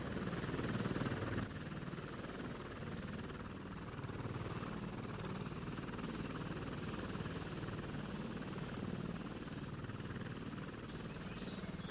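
Helicopter flying over a hilltop area near Šumperk, a steady droning rotor and engine rumble that holds at a constant level throughout, with no voices.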